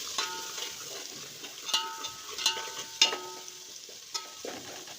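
Onion, garlic and ginger paste sizzles steadily in a pan for masala rice, with several sharp clinks of a spoon stirring against the pan over the continuous frying hiss.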